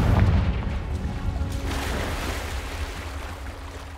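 A Confringo fire spell bursts in Hogwarts Legacy: a deep booming blast up front that trails off into a long rumbling, hissing decay, heard alone.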